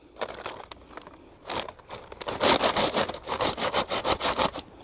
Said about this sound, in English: rubbing them with a trowel, I've made a hole